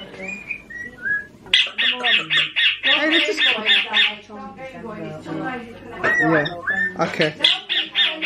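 A pet bird squawks in a house during a family party, loud repeated harsh calls in rapid bursts, with people chatting close by and over the squawks.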